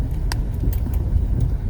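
An off-road vehicle creeping slowly into a rutted forest trail in well-below-freezing weather, its engine a steady low rumble with faint knocks and rattles throughout, close and continuous.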